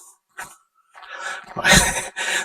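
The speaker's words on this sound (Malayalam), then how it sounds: "കിതയ്ക്കുന്നു" Heavy, ragged breaths and a few short gasps come in bursts, close up, with brief pauses between them.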